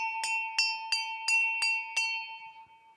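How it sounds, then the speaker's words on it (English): A 30-second bell rings at an arena polo match: six quick, evenly spaced metallic strikes over a sustained ringing tone, loud and clear with no voices. "There's our 30-second bell."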